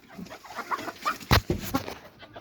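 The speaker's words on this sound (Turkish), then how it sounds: "Yukarıda horoz çağrımı yapıyor" Chickens cluck and fuss nearby while feeding, with a rooster crowing among them in short rising bursts against quiet farmyard background.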